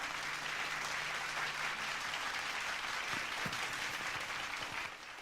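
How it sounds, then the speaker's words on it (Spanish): An audience at a lecture on underwater forests beneath ice gives sustained, dense applause that stays loud and even, then begins to taper near the end. "Un aplauso muy fuerte para Jaime Ojeda Villarruel."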